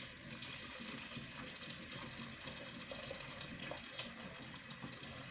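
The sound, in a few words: pouring water over potatoes in a pot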